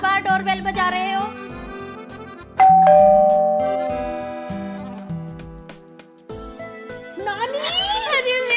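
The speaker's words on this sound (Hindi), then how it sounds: "क्या बार बार डोरबेल बजा रहे हो?" A two-tone ding-dong doorbell chimes several times in a row, bright and close, with short pauses between rings.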